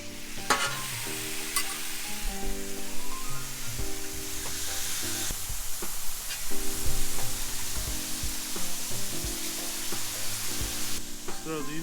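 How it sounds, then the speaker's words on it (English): Burger patties sizzling on a grill, a steady crackling hiss throughout with clattering and scraping from handling, while music plays in the background. "The best part of cooking a burger is the sound it makes."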